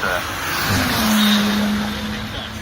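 A Ford GT road car, a Le Mans GTE class winner, drives past at Goodwood Festival of Speed with a steady engine note that swells and fades, heard under people talking.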